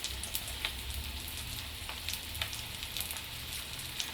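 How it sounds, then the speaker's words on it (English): Steady crackling sizzle of breaded beef cutlets frying in a hot pan, with scattered pops throughout, close and moderately quiet. "Now, I've got my first batch of cutlets in the pan frying away."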